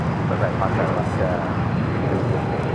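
A Challenger 3500 business jet takes off at Los Angeles International Airport with a steady, loud, broadband roar throughout, and muffled voices may sit beneath it.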